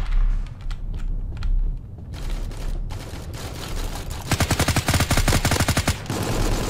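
Rapid automatic gunfire from a Critical Ops mobile shooter match, loud bursts of evenly spaced shots with a dense fast volley near the end, no talking.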